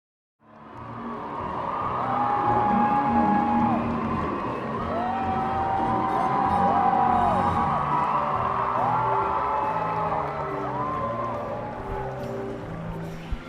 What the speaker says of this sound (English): That was the reaction of the crowd as Wicked comes to an end.